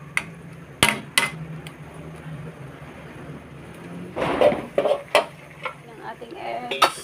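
A metal lid set down on a pan of vegetables with egg gives a couple of sharp clanks. More clattering follows, with someone talking over it.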